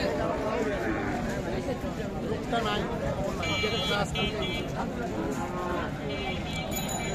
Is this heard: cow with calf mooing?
yes